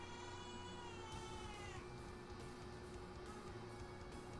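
Gouki the cat meows, a drawn-out, wavering call that rises and bends before fading into quieter chirps against a low steady background hum.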